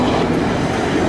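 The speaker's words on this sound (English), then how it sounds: "Just waiting at the train crossing." Loud, close rumble of a train passing a railway crossing in Buenos Aires, Argentina, with a dense steady roar and no talking.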